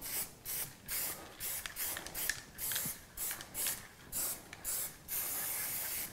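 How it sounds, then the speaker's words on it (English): Liquitex spray paint hissing over a stencil in a series of about ten short, evenly paced bursts, close and crisp, with quiet pauses between each spray and no talking. "Then I'm going to give it a quick spray over my stencil."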